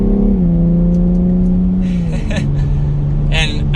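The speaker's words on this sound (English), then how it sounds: "we'll give it a little bit of gas from third gear as we come around this turn" A 2021 BMW X3 M Competition pulls under gentle throttle in third gear through a turn, its engine a loud, close, steady drone that dips in pitch partway through, with faint ticks and whooshes over it.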